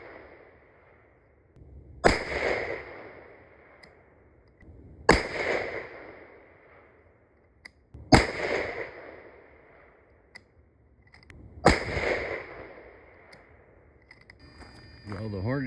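Four 7 PRC rifle shots fired with Hornady factory copper bullets, each a sharp loud crack followed by a rolling outdoor echo, spaced about three seconds apart, with faint handling noise between.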